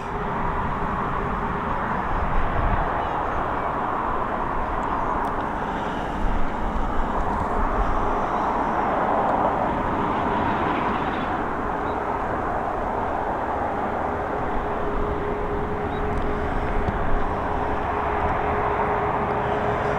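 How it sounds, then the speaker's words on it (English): A Ryanair Boeing 737 from Luton arriving at Dublin Airport in the evening, a steady broad jet roar heard from a distance that swells slightly and holds for a long stretch, with no talking over it. "It's another 737 coming in from Luton, operated by Ryanair"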